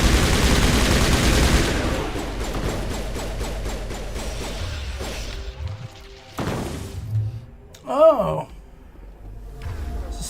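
Cryo ammo fires in the sci-fi shooter Mass Effect, freezing enemies into ice and shattering them: a dense burst of gunfire gives way to scattered crunching impacts and popping crashes, with a brief shout from a player.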